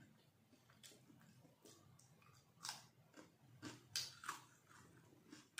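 Someone chewing crispy fried fish with its bones at a dinner alone, giving faint, close crunches and bites in an uneven rhythm with no voice over them.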